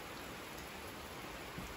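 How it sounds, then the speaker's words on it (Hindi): Heavy rain pours down in a dense, steady hiss that fills the whole stretch without a break, with no voices over it. "इतनी बारिश हो गई, मैं कोई छाता नहीं लेके आया"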